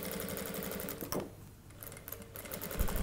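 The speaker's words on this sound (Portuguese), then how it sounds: "eu só vou prender com uma costurinha aqui, ó. Aqui em cima do zíper." A sewing machine stitches just above a zipper with a close, steady mechanical whir, pauses briefly in the middle, then starts up again.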